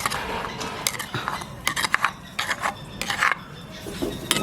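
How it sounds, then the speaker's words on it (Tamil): Grated coconut roasting with five or six cardamom pods in a pan for a Jaffna crab curry is stirred and scraped with a spatula, producing irregular close rasping strokes. "நாங்கள் அடுப்பை பற்ற வச்சுட்டு இந்த தேங்காய் பூவை வறுக்க போகிறோம்."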